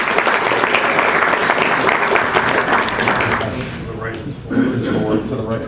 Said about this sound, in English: So Howard, big round of applause for Howard.